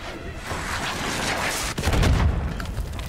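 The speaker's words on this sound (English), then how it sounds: "Where did that RPG come from?" In the video game Call of Duty Black Ops 6, gunfire crackles, then a sharp, heavy RPG explosion bursts about halfway through and leaves a rumbling boom that fades afterward.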